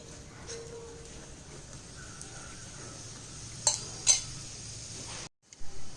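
Bun chapathi in a pan with a little ghee gives off a soft, steady sizzle, with a couple of brief clinks of a utensil on the pan, close and fairly quiet.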